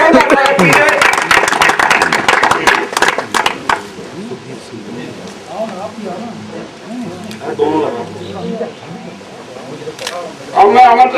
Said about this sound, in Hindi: तालियों के साथ जोरदार स्वागत कीजिए